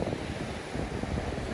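Steady, rough wind buffets the microphone outdoors on a very windy day by the beach, a continuous low roar with gusty swells and no voices.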